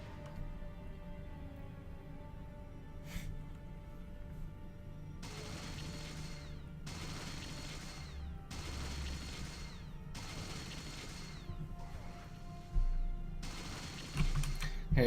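Gunfire in the Fallout 2 video game, with turrets involved, comes as a run of loud, dense bursts of rapid shots separated by short gaps, over a steady low background hum.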